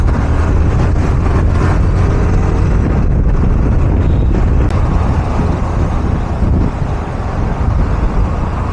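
Heavy road traffic on a Hyderabad street, a steady loud roar of engines and tyres with strong wind buffeting the microphone throughout.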